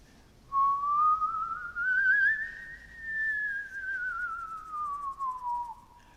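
A single eerie whistled tone rises slowly and falls again over several seconds, close and clear against a quiet night background, setting a spooky mood in a children's horror story.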